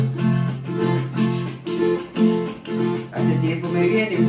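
A carranga song, a bouncy string-band tune with a steady strummed rhythm, played full and continuous.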